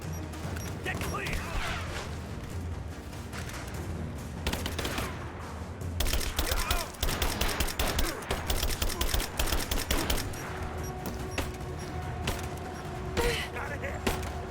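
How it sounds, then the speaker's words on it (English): Covering gunfire in Rise of the Tomb Raider, scattered shots at first, then rapid automatic bursts rattling in quick succession against a low ambient rumble, with voices speaking in between. "Give me covering fire. Laying down covering fire."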